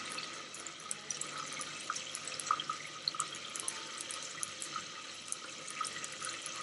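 Tap water runs steadily and softly into a sink while fennel and celery battens are washed, a faint continuous splashing with occasional small drips and no talking.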